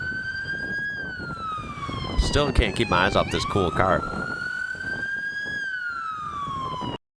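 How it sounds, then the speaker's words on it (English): A UK ambulance siren wails continuously in a rising and falling tone, loud and close, at a busy multi-roundabout junction. Midway someone speaks over it, and a second siren pattern briefly overlaps before the wail continues to the end. "I see an ambulance."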